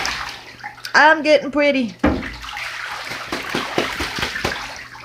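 A pet goose splashes water in a household bathtub, with quick sloshing bursts and splatters in a small, echoing bathroom after someone speaks briefly at the start.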